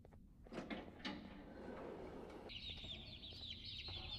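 Pila bird from the Garten of Banban 2 video game clucking in a rapid, high chattering burst that follows a few soft knocks and thuds, faint against a low background rumble.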